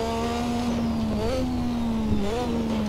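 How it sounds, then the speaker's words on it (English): A Lotus 98T Formula One car's turbocharged V6 revs loudly and close by, a steady high engine whine with quick pitch dips as it shifts gears and builds boost. "you can hear that wonderful V6 behind us"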